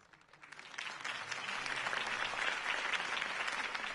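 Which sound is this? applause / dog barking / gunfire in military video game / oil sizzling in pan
applause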